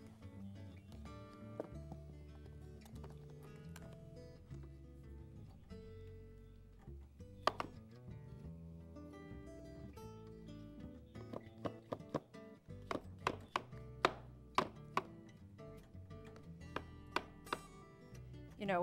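Baby bella (baby portobello) mushrooms being chopped with a knife on a board, a run of sharp close taps that speeds into a quick cluster of cuts near the end, over quiet background music.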